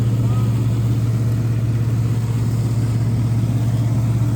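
A John Deere 5210 4x4 tractor fitted with a reaper runs its engine in a steady, loud, low drone with an even hum, close by and without pauses.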